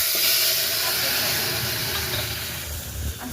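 Cumin, garlic and curry leaves hit hot oil for a tadka, making a loud, continuous hissing sizzle that fills the whole clip and fades slightly toward the end.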